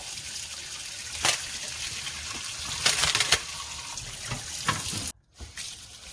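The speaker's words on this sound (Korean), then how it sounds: "밑에 머리를 이렇게 벗겨서 따내고 일단 물에다가 씻어 볼게요." Dried pollock is rinsed under a running tap, a soft, steady trickle and splash with a few sharper splashes of handling, close and fairly quiet, the water briefly cut off near the end.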